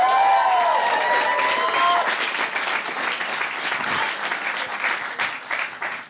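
Audience applause fills a Norwegian stand-up comedy show, a dense, steady wash of clapping with some cheering that carries on for several seconds as a comedian's voice drops away at the start.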